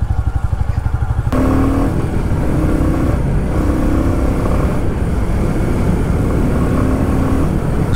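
A motorcycle on the road: a brief chugging idle, then a sudden surge into a loud, steady engine roar with shifting pitch as the bike rides along. The sound is close and continuous, with no talk.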